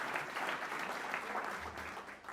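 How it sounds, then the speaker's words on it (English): An audience at a tenth-anniversary science media panel event applauds in a dense, steady wash of clapping that fades slightly at the end. "So please give him a big round of applause."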